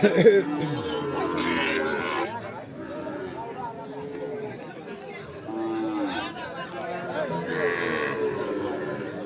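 Cattle at the Amabari livestock haat in Dinajpur, where Sahiwal-breed bulls and calves are traded, low moos and grunts rising amid steady crowd chatter and bargaining voices, with people talking throughout.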